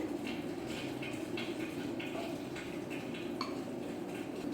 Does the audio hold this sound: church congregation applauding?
no